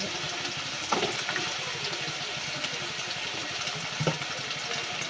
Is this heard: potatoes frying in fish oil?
yes